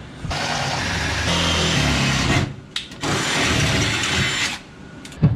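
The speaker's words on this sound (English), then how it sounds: "now I'm going to drill these guys out a little bigger" A power drill runs in two sustained bursts, widening bolt holes, whining steadily for a couple of seconds each, with a short pause and clicks between them.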